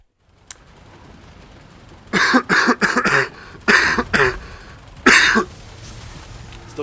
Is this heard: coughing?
yes